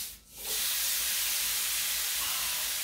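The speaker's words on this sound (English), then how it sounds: "this is going into a dry skillet, no oil" Thick strips of fajita meat hit a dry, unoiled skillet and burst into a loud, dense, continuous sizzle after a brief dip, close and steady with no talking.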